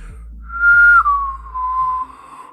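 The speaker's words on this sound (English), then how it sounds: "You're whistling now with the tongue on top." A single person whistles one sustained clear note with the tongue raised on top, close and loud, gliding slightly downward and breaking once briefly before trailing off.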